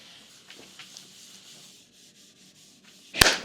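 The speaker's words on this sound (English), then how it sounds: "I'm going in with 2 coats of a wipe-on polyurethane in a satin finish, and I'm just applying it using a simple painter's rag" A painter's rag wipes satin wipe-on polyurethane across wooden boards, making soft, faint, steady rubbing swishes in repeated strokes, ending with one sharper, louder scrape or knock.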